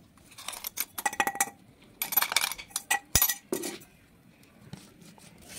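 Lemon pickle being mixed with salt in a kitchen vessel: a run of quick metallic clinks and scrapes of a spoon against the pot in irregular bursts, close and fairly faint, with short quiet pauses between strokes.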